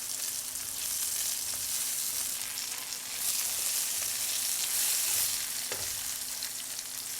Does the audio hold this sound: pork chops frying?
yes